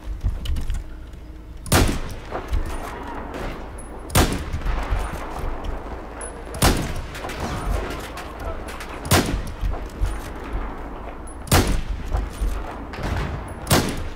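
Battlefield 4 team deathmatch gunfire: sharp shots crack out roughly every two to three seconds over a steady rumbling game backdrop, loud and close, with no talking.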